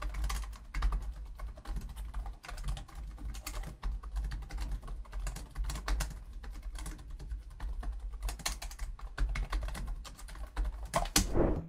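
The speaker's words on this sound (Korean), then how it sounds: "살짝 타건음을 들어보면" Rapid, steady clicking of keys as someone types on an ASUS ROG Zephyrus M16 gaming laptop keyboard, close and crisp with no talking.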